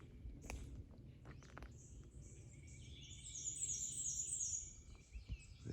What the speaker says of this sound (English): It's a black and white warbler singing up here.